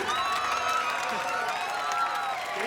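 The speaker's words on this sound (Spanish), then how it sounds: "otro fuerte aplauso para Sol" Applause for Sol's stage debut on a television show set, a steady wash of clapping and light cheering from a studio audience filling the whole stretch at even loudness.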